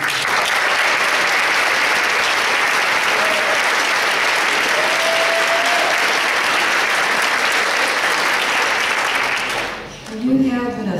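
A large audience at a 2011 senior center variety show applauds steadily and loudly, a dense sustained wash of clapping that fades out near the end as a voice begins speaking.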